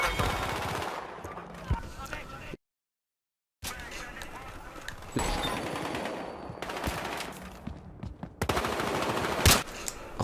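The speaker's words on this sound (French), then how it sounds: "j'aide mon équipe avec du snipe à longue distance" Long-range sniper rifle fire in the multiplayer shooter Battlefield Hardline, with repeated gunshots and bursts of automatic fire amid game noise, interrupted by a brief dropout, while someone talks over it.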